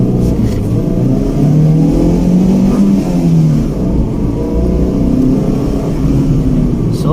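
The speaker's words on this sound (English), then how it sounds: "handbrake down, and let's go." A Maruti Suzuki Eeco with a 1.2 litre petrol engine pulls away from a standstill, its engine revving up loudly and steadily through first gear with a continuous close rumble.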